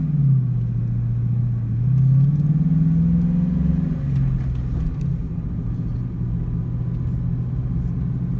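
A 2001 Ford Mustang Bullitt drives along with a steady low engine drone that rises and falls slightly as it pulls through the gears, close and continuous with road rumble.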